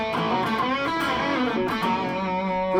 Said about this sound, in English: This is me playing through my wee Laney VC15.